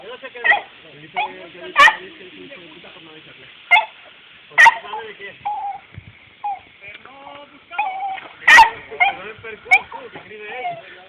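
A dog gives sharp yips and whimpers beside water, with short bursts scattered among frequent human talk from nearby speakers.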